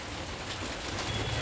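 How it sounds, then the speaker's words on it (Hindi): Heavy monsoon rain falls over a garden of potted plants as a steady, dense hiss with no pauses. "ऊपर की तरफ भी बारिश हो रहा है"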